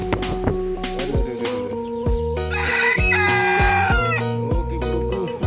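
Silkie chickens in a coop give repeated loud clucks and drawn-out calls, close by, with several birds overlapping in an irregular rhythm.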